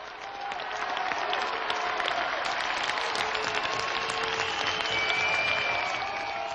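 Theatre audience at a Burgtheater premiere cheering and applauding, a steady dense roar of clapping with raised voices that holds loud throughout.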